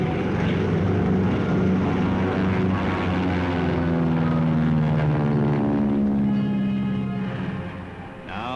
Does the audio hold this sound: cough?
no